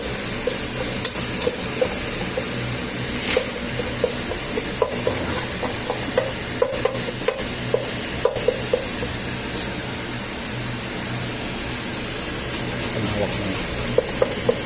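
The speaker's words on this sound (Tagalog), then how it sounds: "Pa-fried rice natin. Tayo natin na medyo ma-toasted yung itlog." Egg stir-fried in a wide pan for fried rice: a steady, close sizzle runs throughout, with frequent light scrapes and clicks of a spatula stirring against the pan.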